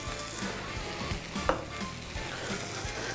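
Food topped with cheddar cheese sizzles steadily in a pan, a close, even frying hiss with one brief clink near the middle.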